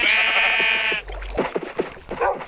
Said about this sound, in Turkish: Burada koyunlarım var.